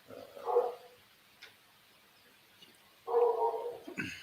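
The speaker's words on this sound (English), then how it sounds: "that's what's causing all the dogs to bark as they're going through" Dogs bark in two bursts, a short one early and a longer cluster later, fairly distant and muffled over a quiet background.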